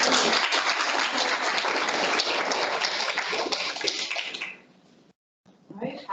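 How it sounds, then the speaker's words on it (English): Audience applause at an education access and inclusion think tank session, a dense, steady wash of clapping that holds for about four seconds before fading out, followed by a brief silence and then a voice starting to speak. "give you for another round of applause"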